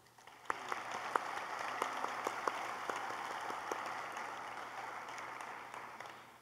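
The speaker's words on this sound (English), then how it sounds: "Please help me recognize these people with a round of applause" A crowd at a dental school white coat ceremony gives a round of applause for the dental faculty, a steady wash of clapping with a few sharper claps standing out, fairly quiet and distant.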